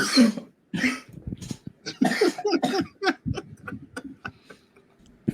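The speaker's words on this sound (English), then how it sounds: "You coughing off the bread?" A series of sharp coughs and throat clearing, several bursts in quick succession with brief pauses, close to the microphone.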